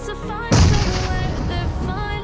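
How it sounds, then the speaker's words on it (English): Grenade going off in the PUBG Mobile battle game: one sudden heavy blast with a deep boom that lingers as a long rumbling tail. "You need to throw the grenade."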